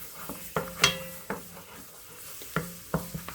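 Utensil scraping and stirring a flour roux with garlic in a pan, with a faint sizzle beneath a few sharp clinks and scrapes spaced irregularly, close and fairly quiet.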